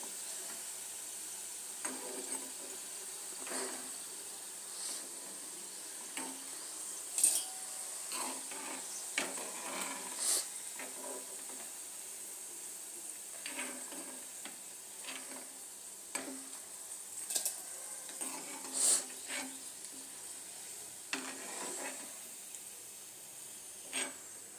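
Onion pakodi frying in oil until golden: a soft, continuous sizzle with scattered spatter pops and occasional light clinks of a utensil against the pan, fairly quiet and with no talk.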